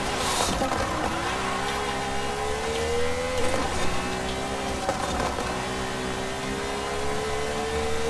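A Corvette's engine revs hard throughout a video-game race against a Lamborghini, with a steady rising whine that climbs, drops at a shift and climbs again over constant roaring engine noise.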